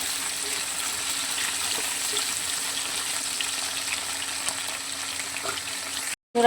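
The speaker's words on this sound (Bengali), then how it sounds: "এগুলো আমি আগে ভালো করে ভেজে তুলে নেব" Soybean chunks frying in hot oil, a steady close sizzle held evenly throughout, cut briefly near the end, no talking.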